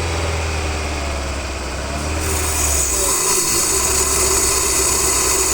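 A car engine is held at about 2000 rpm during an engine cleaning treatment, giving a steady, loud, continuous drone that shifts slightly in tone partway through, with no talk.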